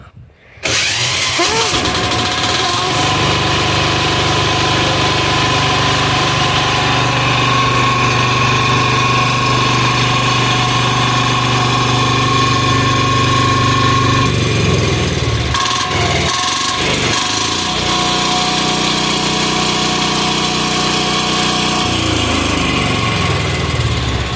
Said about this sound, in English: So it runs, it works, rolls coal